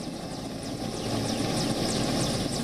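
An Mi-17 V5 helicopter thunders close by, its rotor chop beating rapidly under a dense engine roar that holds steady and loud throughout.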